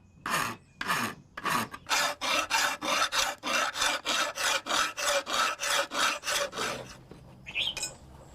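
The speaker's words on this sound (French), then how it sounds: "il faut à présent limer la lame pendant des semaines" A kris blade being filed by hand, with steady rhythmic rasping strokes, about fifteen even back-and-forth passes close up, then a pause and a faint bird call at the end.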